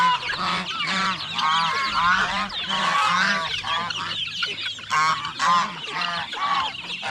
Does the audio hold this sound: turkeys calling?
yes